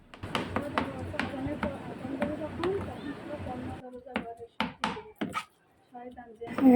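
A knife chops rapidly and repeatedly on a board, mincing chicken by hand with a steady rhythm, then slows to a few scattered sharp strikes and taps.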